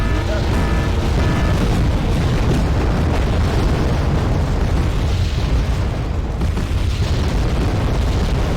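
Enemy artillery explosions rumble continuously in the Wargame: Red Dragon strategy game, a dense, loud, sustained barrage of booms with no clear gaps between impacts.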